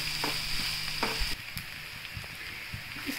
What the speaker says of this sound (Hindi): ऑनियन को हम इसको हम करीब तकरीबन 5 मिनट तक इस ऑयल में इसको इस तरह से भूनेंगे